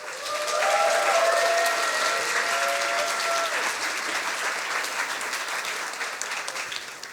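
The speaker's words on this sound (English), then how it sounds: "Big applause for Niels von Wardenberg." Sustained audience applause at a science slam event, a dense wash of clapping that holds steady for several seconds before slowly thinning, with a faint tonal whine over it early on.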